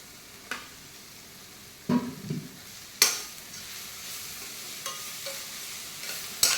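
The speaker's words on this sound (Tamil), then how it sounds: "போட்டுட்டு நல்லா வதக்கிக்கலாம்." Spring onions being sautéed for egg fried rice with crumbled egg in the pan: quiet, sparse scrapes and stirs of a spatula over a low background, a few sharper clinks standing out.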